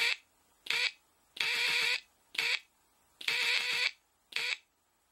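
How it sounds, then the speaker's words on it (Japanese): A buzzer sounds in six bursts of varying length, short and long tones with brief gaps between them, like Morse code, loud and clear with no voices. "モールス信号をブザー音で聞き取れます"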